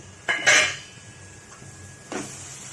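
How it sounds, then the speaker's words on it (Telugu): A metal lid lifts off a pot of raw papaya curry with a short clatter, then a second lighter clink follows after a pause, close and fairly loud in a quiet kitchen. "ఇదిగోండి తీస్తున్నాను మూత."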